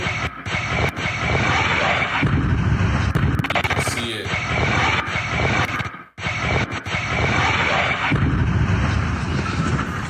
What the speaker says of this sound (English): That's a plane. I caught that on camera.